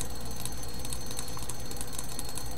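An alarm clock rings inside a video game, a rapid continuous metallic bell-like ringing that stays loud and steady throughout, with no voices over it.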